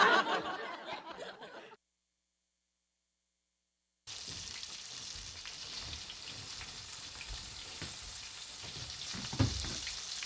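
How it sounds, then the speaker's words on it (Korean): Shrimp fry in hot oil in a kitchen scene from a Korean sitcom, with a continuous close sizzle and crackle that follows a brief noisy burst and a moment of silence. "새우 튀기는데 맛 좀 볼래나?"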